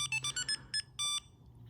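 A Light Pro V2 pager remote for a car alarm system gives a rapid run of short electronic beeps followed by one longer, steady beep, all close and crisp over a faint background hum.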